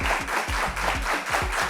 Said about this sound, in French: Merci pour ces applaudissements si chaleureux.